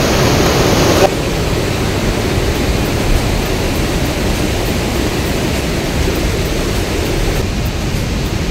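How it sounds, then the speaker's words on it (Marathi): Nanemachi waterfall roaring as a loud, steady broadband rush of falling water, close and continuous with no break throughout. "हा बघा वॉटरफॉल एन्जॉय करतो."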